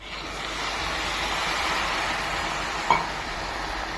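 Water goes into a pan of raw banana thokku as it cooks, a steady rushing, hissing wash that builds and holds close to the microphone, then ends with a single sharp clink.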